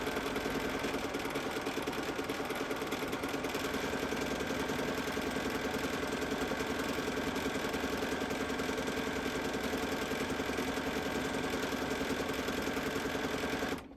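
A sewing machine runs steadily through free-motion micro stippling on a quilt, its continuous rapid needle hum holding even and close for the whole stretch with no pauses.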